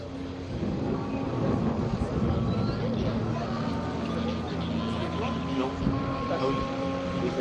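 Eight Patrouille de France jets flying in diamond formation above a mountain, a continuous broad roar that holds steady throughout, with a voice talking over it.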